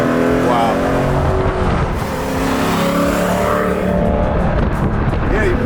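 A 750 hp 1970 Plymouth Cuda being driven through corners, its engine a loud continuous rumble with shifting pitch as it turns and accelerates, heard from inside the car under people talking.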